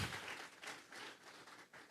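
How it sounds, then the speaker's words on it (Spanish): Church congregation at a Sunday service applauding, a faint, dense patter of many hands clapping together at a distance, steady with slight swells, and no talk over it. "Vamos a regalarle ofrenda de palmas al Dios de la gloria."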